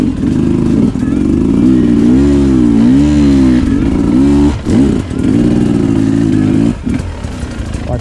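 A loud motorcycle engine, fitted with a Rekluse clutch, drones and rises in pitch as it revs, dips briefly, then picks up again, close and continuous.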